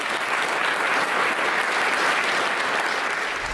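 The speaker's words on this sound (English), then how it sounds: "Round of applause to number 19." A studio audience at a hypnotism stage show applauds a departing volunteer: dense, loud, steady clapping that fills the whole stretch without a break, with no voices over it.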